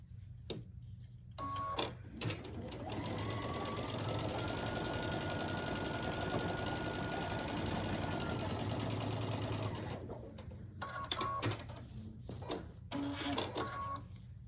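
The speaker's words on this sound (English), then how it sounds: "I'll take this one and stitch it on the other side" A sewing machine stitches a quilt block seam in one long steady run of several seconds, with shorter bursts of stitching before and after, close and unaccompanied by talk.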